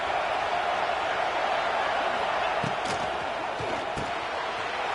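A large football stadium crowd keeps up a dense, steady roar at a college game, with a few sharper shouts and thumps rising out of the noise.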